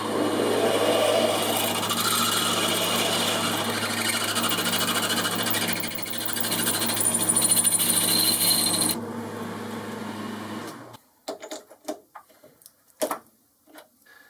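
Drill boring a hole out to 8.5mm for a threaded bar gives a loud, steady whirring grind that runs for about ten seconds and then stops, leaving scattered faint metallic taps and clicks.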